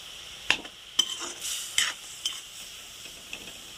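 Jaggery melting and cooking down for sesame laddu, with a soft continuous sizzle broken by several sharp stirring clicks and scrapes of a spoon against the pan, close and moderately loud, no voices.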